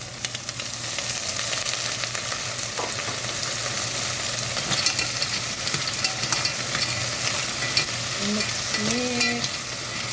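Clams added to a hot pan for a Filipino clam soup sizzle and fry steadily, with scraping stirs and a few clinking shell sounds near the end, close and fairly loud with no voices.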